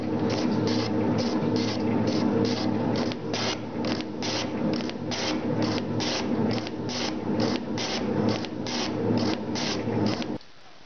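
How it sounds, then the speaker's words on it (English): Working scale model metal shaper cutting a groove in cast iron at half a millimetre depth: a continuous mechanical grind broken by a steady, regular pulsing of cutting strokes, fairly close, ending abruptly. "This little working scale model shaper is not designed to take these heavy loads or these cutting forces"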